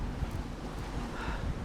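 A wind gust buffets a sailing boat at sea during a storm near shore, a steady low rushing roar with microphone wind buffeting, fairly quiet, with no talk.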